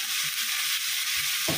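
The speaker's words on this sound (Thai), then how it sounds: "เสร็จแล้วก็ตามด้วยกุ้งค่ะ แครอทกับมอคโครี่ลงไป" Shrimp, carrot and vegetables stir-fry in hot oil, giving a steady loud hiss and sizzle with faint stirring and scraping underneath and a brief clatter near the end.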